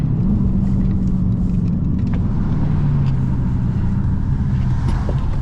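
Dodge Challenger SRT 392 Scat Pack speeding at around 120 mph, heard as a loud, steady low engine drone and road rumble with a slowly shifting pitch, no voices.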